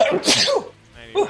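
A single sharp, close sneeze bursts out during a live racing watch-party broadcast, followed by a brief spoken word.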